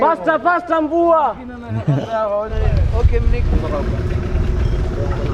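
A person talks over light background noise, then a boat motor and rushing water take over in a loud, steady roar on a short boat ride in Lamu, Kenya.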